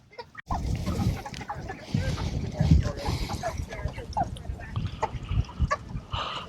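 Meat chickens on a farm clucking and squawking as a busy, noisy flock in a field chicken tractor, steady throughout with voices faintly in the background.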